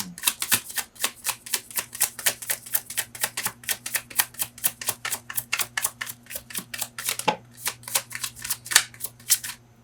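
Tarot cards are shuffled by hand in quick, crisp riffling clicks, dozens of close taps in an uneven rhythm with a low hum running underneath.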